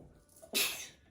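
A single sharp human sneeze, close and fairly loud, with a short intake of breath just before the burst and a quick fade afterward.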